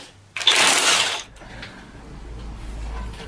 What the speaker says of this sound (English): You need to use a little universal joint on it, and that's not something you usually would do with an impact wrench, but I'm doing it anyway, and it works.